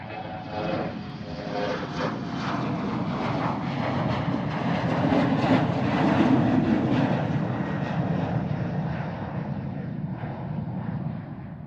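A departing airliner at Amsterdam Schiphol Airport roars steadily for the whole stretch, a broad engine rumble that swells toward the middle and then eases slightly as the plane climbs away.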